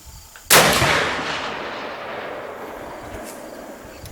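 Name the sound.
rifle gunshot at the range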